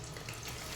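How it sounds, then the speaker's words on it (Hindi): Onions fry in hot oil for Hyderabadi tarkari biryani, producing a dense, steady, close sizzle that fills the short moment without any break. "तो देखिए, तेल अच्छे से गर्म हो गया। अब मैं इसमें प्याज डाल देती हूँ,"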